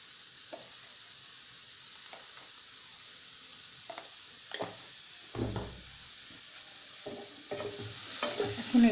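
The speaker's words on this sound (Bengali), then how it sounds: "এখন এগুলোকে নেড়ে যেতে হবে যতক্ষণ না টমেটোগুলো পুরোপুরি নরম হয়ে যায়।" A spoon stirs tomatoes and mixed fruit frying with salt and turmeric in a pan for chutney: scattered close scraping strokes over a faint, steady sizzle, growing busier toward the end, with no voices.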